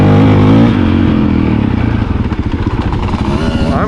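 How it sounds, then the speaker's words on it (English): A Yamaha YZ65 two-stroke dirt bike engine revving loud and close, a raspy buzzing roar that climbs and wavers in pitch. "What's the two-stroke doing?"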